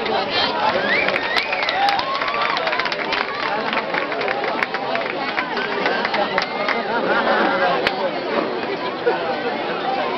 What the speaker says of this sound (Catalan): Bon aplaudiment